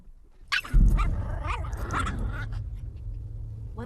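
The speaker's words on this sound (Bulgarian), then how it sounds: "Защо ръмжеш, миличко?" A dog growls low and rumbling, mixed with whimpering yips and a few sharp vocal bursts, close and fairly loud, with the growl trailing off to a quieter rumble at the end.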